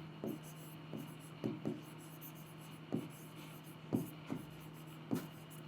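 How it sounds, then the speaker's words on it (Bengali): Pen or pencil scratching on paper as a label is written beside a hand-drawn diagram of plant xylem tissue, in short separate strokes with small pauses between them, close and quiet against a faint steady hum. "আমি প্যারেনকাইমার নামটা একটু লিখে দিই"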